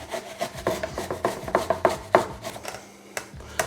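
A small onion is rubbed against a grater for chicken curry, giving close, uneven rasping strokes with brief pauses between them.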